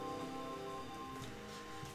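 Rain falls steadily as a soft, continuous patter on a surface, with a low hum of steady tones underneath, faint and even throughout with no voices.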